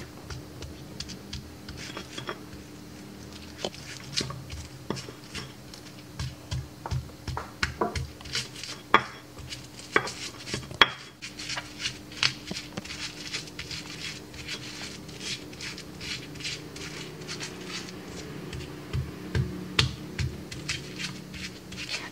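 Coriander seeds being ground into a pesmol spice paste, heard as an irregular run of close, soft crunching taps and scrapes from the grinding over about twenty seconds, with no speech.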